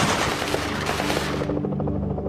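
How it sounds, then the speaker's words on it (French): Gunfire exchanged during a bank robbery shootout in Los Angeles, heard as a dense, loud, continuous barrage of shots with no pause for about two seconds. "Nouvel échange de coups de feu."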